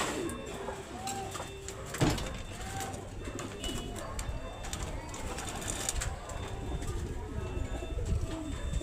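Racing pigeons coo softly amid a busy outdoor backdrop at a pigeon derby, with faint bird calls and a brief knock or door-like thud partway through.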